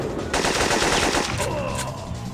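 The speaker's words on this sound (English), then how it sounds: "from the crack of the M16" Rapid automatic M16 rifle fire from the video game Syphon Filter, a sharp crackling burst that starts abruptly and trails off with echoing decay.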